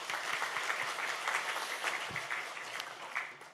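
Steady applause from a church congregation at a Saturday worship service, a dense, even wash of many hands clapping that holds for the whole stretch before tapering slightly at the end.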